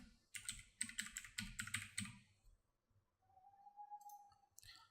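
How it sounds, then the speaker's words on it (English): Fast typing on a computer keyboard, a rapid run of close clicky keystrokes for about two seconds, followed by a quiet pause with a soft tone and a few scattered clicks. "I'm just going to type in abstract particles."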